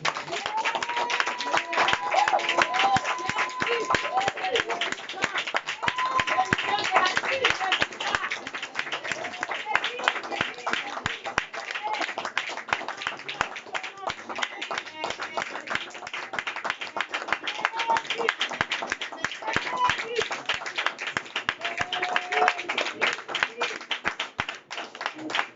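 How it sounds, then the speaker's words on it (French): A church congregation at a Sunday prayer service claps in acclamation, with sustained rhythmic hand clapping and voices singing and calling out over it throughout. "on va donner encore une dernière acclamation."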